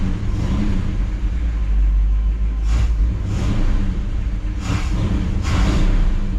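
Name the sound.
1959 Chevrolet Bel Air 348 engine revving with Rochester 4-Jet carburetor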